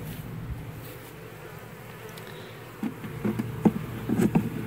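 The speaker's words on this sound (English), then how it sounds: "Here's the first bucket of bees. It's pretty full. A lot of bees are attracted to it." Honeybees buzzing in a dense, steady drone during a hive removal in Bradenton, Florida, a bucket full of bees nearby; the hum swells louder with sharper close passes of individual bees toward the end.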